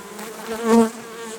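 A dense swarm of honeybees packed inside a log hive hums with a steady, close droning buzz that swells briefly louder midway, with no voices.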